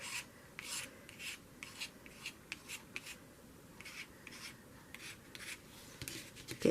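Paint is scraped across paper in crossing directions, a soft, close, rhythmic rasping of repeated short strokes over quiet background.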